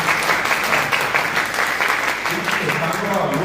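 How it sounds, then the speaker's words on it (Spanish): Steady, dense applause from an audience at a Guarani language and culture tribute event in a hall, loud and continuous throughout with a voice faintly underneath. "para la gente de Capiatá, un aplauso"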